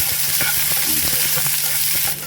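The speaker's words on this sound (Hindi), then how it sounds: "तो तेल हो गया गरम, देखिए गया प्याज" Chopped onion fries in hot oil in a pan, a close, dense crackling sizzle with small pops and stirring scrapes, steady throughout before easing slightly at the end.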